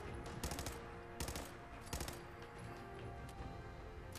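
Automatic gunfire from a turret in the video game Fallout 4, coming in three short rattling bursts over a busy background of game noise.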